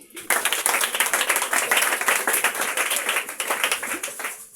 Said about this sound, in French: Acclamons pour vous.